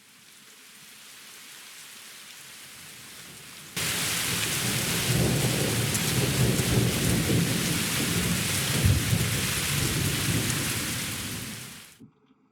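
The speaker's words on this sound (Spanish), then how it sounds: "luego empieza a llover súper fuerte, se queda lloviendo fuerte y luego escampa brusco" Simulated rain made for visual effects, starting as a light steady patter, then abruptly jumping to a heavy downpour with rumbling thunder, and cutting off sharply at the end.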